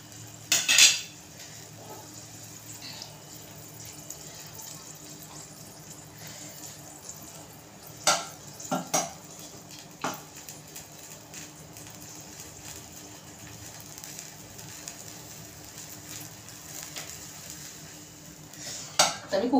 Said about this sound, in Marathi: तर मी कुकरचं झाकण लावते आणि मीडियम गॅसवर 3 ते 4 शिट्या काढून घेते